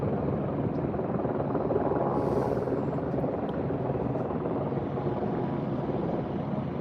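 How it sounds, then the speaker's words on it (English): Several news helicopters hovering overhead at a rescue scene on Dead Man's Curve, a dangerous road curve, heard as a steady, dense rotor drone throughout without talk. "You got a lot of news helicopters watching here."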